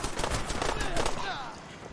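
Rapid gunfire from enemy gunners in a strategy game, a dense close rattle of repeated shots, with a voice talking quietly through part of it.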